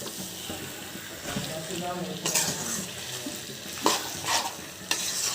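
Boiled potatoes are stir-fried in a spiced masala for an egg and potato curry, with a steady soft sizzle and repeated spatula scrapes and clatters against the pan throughout.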